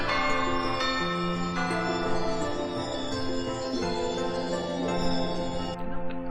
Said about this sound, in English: Bell's too loud.